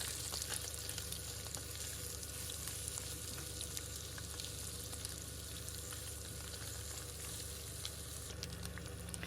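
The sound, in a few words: carrots frying in a pan for spaghetti sauce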